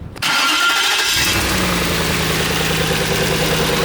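A turbocharged V8 engine in a Nissan Stagea cranks and catches, then roars up and settles into a loud, steady idle close by.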